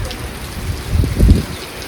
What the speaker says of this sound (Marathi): चांगलाच पाऊस आलाय हो का